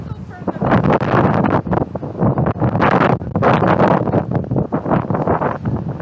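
Loud gusting wind buffets the microphone in rough bursts throughout, with voices faintly mixed under the roar, outdoors near a large school fire in Martin County, Florida.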